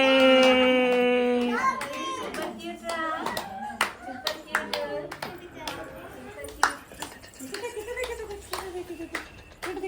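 A small child's hands clap in a quick, uneven run of sharp, close slaps, with an adult voice speaking at the start and scattered child sounds between the claps.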